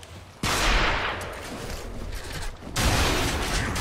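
Sniper rifle fire in Gears of War, two loud bursts of close gunfire with a quieter stretch of battle noise between them, and no talking.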